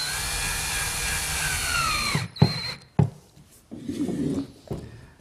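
A power drill drives screws into a solid oak desk in a workshop, first one long whine that winds down, then several short bursts of driving separated by pauses.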